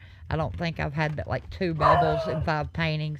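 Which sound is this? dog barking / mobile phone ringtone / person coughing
dog barking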